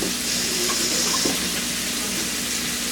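Shrimp scampi sizzles in a very hot pan, a dense, steady crackling hiss that stays close and even throughout with no voices over it.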